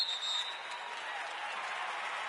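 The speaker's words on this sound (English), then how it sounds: "And the home crowd applauding." Home crowd in a basketball video game breaking into steady applause, a dense continuous clatter of clapping held at an even level throughout, with no one talking over it.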